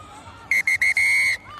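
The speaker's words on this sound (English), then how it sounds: "The whistle sounds," A referee's whistle at a women's rugby sevens match between Spain and France in Dubai: three short blasts then a long one, loud over a murmuring stadium crowd.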